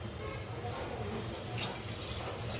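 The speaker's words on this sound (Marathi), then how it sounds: "याच्यात पाणी जात आहे आता पाणी" Water pours into a cooking pot for mutton soup as a continuous, close rushing splash with a faint voice underneath.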